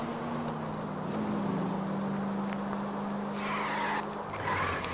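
Car in the L.A. Noire game drifting hard, a loud sustained tire screech over engine roar running nearly the whole stretch, with a brief squeal rising near the end.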